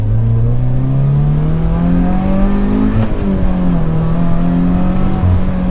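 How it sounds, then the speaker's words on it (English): A turbocharged Subaru BRZ pulls hard in second gear from low speed on a back road, engine pitch climbing steadily and loud from inside the cabin, with a brief dip as the revs reset before climbing again. "Let's do a second gear acceleration from about 25."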